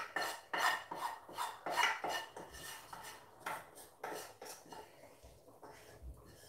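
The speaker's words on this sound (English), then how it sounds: "I'm going to be adding this Ogbono and give it a stir." Ogbono being stirred into soup in a pot, heard as a series of rhythmic scraping, rasping spoon strokes against the pot, close and fairly quiet, slowing toward the end, with no talking.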